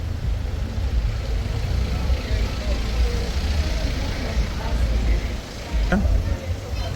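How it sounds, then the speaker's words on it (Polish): Cars crawl and idle in a traffic jam in a city street in Porto, Portugal, a steady close engine rumble with low droning motors throughout and one brief sharp sound near the end. "Korek naprawdę zdaje się nie mieć, nie mieć końca. Cały czas samochody tutaj stoją."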